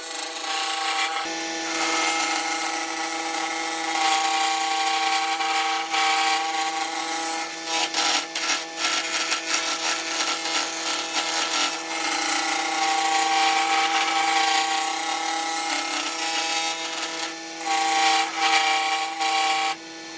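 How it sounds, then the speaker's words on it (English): A woodturning lathe spins as a tool shapes and tapers a French rolling pin, a steady close motor whine with a continuous scraping, rasping cut that pulses with the tool's passes. "just working here to not only make sure it's round,"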